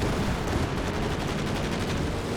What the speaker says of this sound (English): It's a pretty good strafe there.